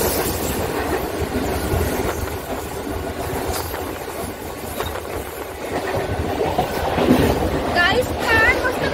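A 15-car Virar–Andheri slow local train runs near Jogeshwari on the Mumbai suburban line, a steady rumbling rail roar with faint clatter that builds toward the end, with a voice speaking over it.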